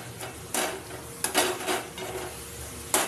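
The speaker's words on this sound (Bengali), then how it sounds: "লাল শাক ভাজা, এর মধ্যে একটা কাঁচা লঙ্কা চিড়ে দিয়েছি, আর নুন" Red amaranth greens frying in a pan with a slit green chilli and salt, stirred with a utensil: a steady sizzle broken by several sharp scraping strokes against the pan, close and fairly loud, with no talking.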